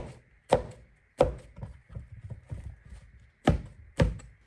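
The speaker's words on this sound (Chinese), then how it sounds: "先把金针菇去掉根部，然后再切成1厘米厚的薄片，再改刀成1厘米宽的长条" A knife slices enoki mushrooms into strips on a cutting board, giving about eight close, crisp thunks in an uneven rhythm, some strokes louder and others softer between them.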